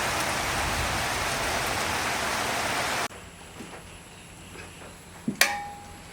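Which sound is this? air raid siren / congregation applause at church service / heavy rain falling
heavy rain falling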